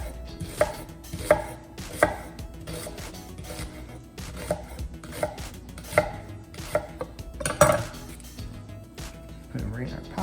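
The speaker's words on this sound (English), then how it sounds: "we're just going to cut the onion just like before" A knife chops an onion on a board in a string of crisp, irregular thuds, some louder than others, close by, with a person's voice talking in between the cuts.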